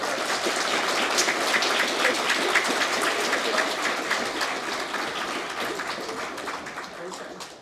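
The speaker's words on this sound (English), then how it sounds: "So I just want to give her a round of applause" A crowd claps steadily in a room for a student's art project, the applause dense and even and then slowly fading toward the end.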